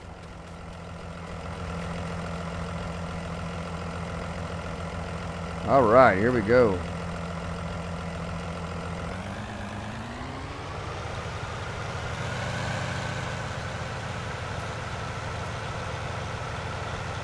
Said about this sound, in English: We're going to pull this tractor right over in here.